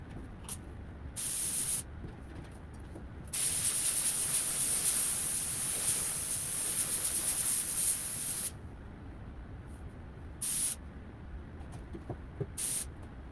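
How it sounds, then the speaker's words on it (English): A spray gun lays clear coat on a Honda Del Sol car in hissing bursts: short sprays, then one long pass of about five seconds, then more short spurts, close and fairly loud. "let's spray some clear."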